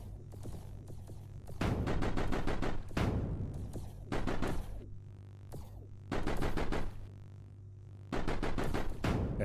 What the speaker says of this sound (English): So that is a very angry turret.